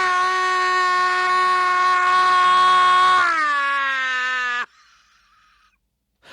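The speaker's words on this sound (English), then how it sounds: "There's the gold standard scream." A recorded human scream is played back: one loud, sustained high-pitched cry that holds steady, then slides downward in pitch and cuts off abruptly, leaving near silence.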